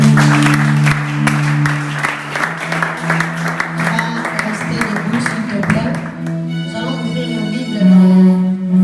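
A church congregation claps and acclaims God, with brisk clapping mixed with raised voices and cheering that thins out over the last few seconds.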